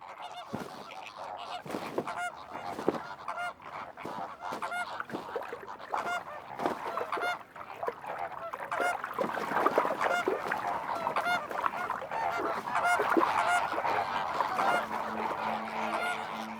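A flock of flamingos calling together in spring, a dense, continuous chorus of nasal honking calls from many birds at once, steady and moderately loud with no talk.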